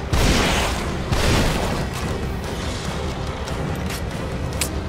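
Loud, booming explosions from The Evil Within video game, one big blast at the start and another around a second later, then a continuous rumbling, crackling roar that persists to the end.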